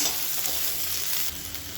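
Steady sizzling and stirring of tamarind and chillies in a hot pan, a continuous close-up frying hiss that softens slightly toward the end.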